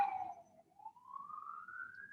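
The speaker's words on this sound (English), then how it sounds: "I'm hearing ambulances now." Ambulance siren outside, faint and distant, a single wailing tone that dips and then slowly rises, heard alone through quiet surroundings.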